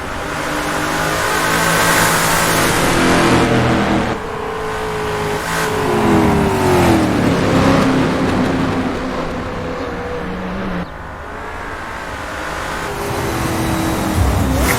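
A race car in Assetto Corsa on the Mont-Tremblant circuit screams loudly through the gears, its engine revving up and dropping on shifts while tires squeal through corners, close and continuous.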